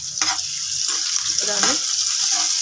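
Spicy mutton fry being stirred in a pan, with a steady frying sizzle throughout and a few scraping stir strokes close by.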